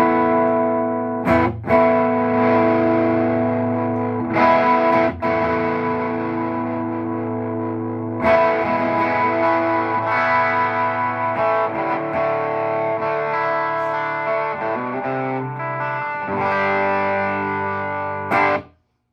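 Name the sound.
guitar through MXR Distortion+ or Pigtronix Fat Drive pedal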